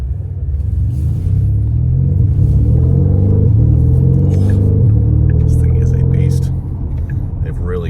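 Low, steady engine and exhaust rumble from a 2026 Porsche Panamera GTS heard from inside the cabin with windows up, droning evenly while driving before easing slightly near the end.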